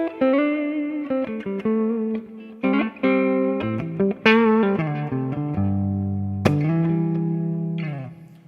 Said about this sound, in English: So you can hear the delay subtly, but you hear the reverb kind of over the top.